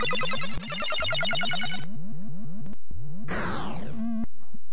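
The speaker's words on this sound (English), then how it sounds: "That's the sound of healing." Commodore 64 video game healing effect: rapid chirping synth sweeps repeating in quick pulses, then a brighter descending burst of tones, loud and electronic with no talking.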